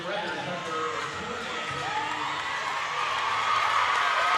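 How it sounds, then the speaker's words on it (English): Cleveland basketball fans at a middle school rivalry game stand and yell in a steady, loud roar of cheering and whoops that builds toward the end, with a commentator talking over it. "Cleveland fans standing and yelling"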